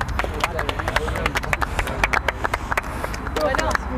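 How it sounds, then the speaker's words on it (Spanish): An audience applauds the losing team at a Spanish TV show, dense irregular clapping throughout with crowd noise and some voices mixed in. "Aplaudimos al equipo perdedor"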